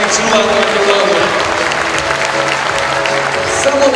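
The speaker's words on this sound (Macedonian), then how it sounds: "Морате уште еден аплауз за овие најмлади што ја сакаат и чуваат Македонија." Audience applause at a kindergarten year-end show fills the hall with steady, dense clapping throughout, a close, loud wash of many hands with faint voices and musical tones mixed underneath.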